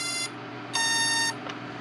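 A drone powering on gives two electronic beep tones, each about half a second, close and clear against a steady low hum.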